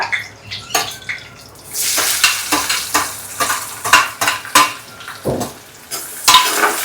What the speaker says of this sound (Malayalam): നന്നായിട്ട് ഇത് ഫ്രൈ ചെയ്യണം. ഗോൾഡൻ കളർ ആവട്ടെ.